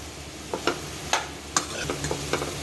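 Onion and tomato fry on high flame for a pumpkin soup, a steady sizzle broken by several scraping spoon strokes against the pan, close and distinct.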